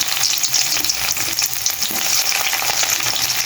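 Chopped onions fry in a small amount of oil with a loud, dense, continuous sizzle and crackle close by, and no voices.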